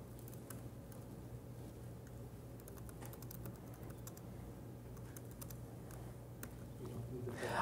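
Code being typed on a computer keyboard, a quiet steady patter of keystrokes over a low hum, with faint talk nearby.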